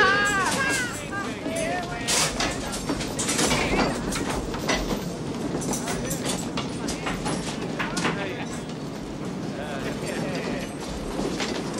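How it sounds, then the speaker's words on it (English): A train rattles steadily along its rails with a rhythmic clatter, while people chatter and call out over the rumble. "Think about getting off this train, Mokoso."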